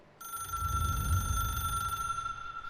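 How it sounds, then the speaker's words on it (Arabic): An in-game telephone in the video game Control rings with a steady electronic tone over a low rumbling drone, starting abruptly and holding for the whole stretch. "التليفون ده يعني كل شوية يرن وفي حاجة غريبة."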